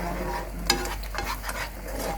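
Coconut milk simmers in a pot for Thai green curry with chicken while a utensil stirs it, producing soft bubbling sizzle and a few scraping clinks over a low steady hum.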